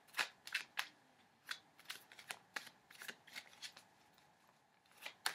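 Tarot cards shuffled by hand in a quick series of crisp riffling flicks and snaps, some bursts close together and others spaced out, close and fairly quiet with no talking.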